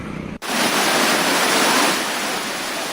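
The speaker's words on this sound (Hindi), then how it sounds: "जब डैम में पानी की आवक ज्यादा थी, इसके बाद गेट खोले गए।" Water gushes through the opened gates of a dam during high inflow, a loud, continuous roar that starts abruptly after a brief quieter moment and holds steady throughout.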